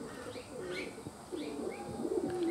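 Nun and Turbit pigeons cooing softly in a loft, a few repeated low rolling coos with faint chirps over steady background noise.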